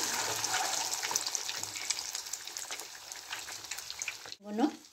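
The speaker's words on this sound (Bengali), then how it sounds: "ডিমগুলোকে লালচে লালচে করে ভেজে নেব।" Eggs fry in a pan of hot oil for a cauliflower and egg curry, giving a dense, steady sizzle that stays close and even, with a brief clatter and a voice speaking near the end.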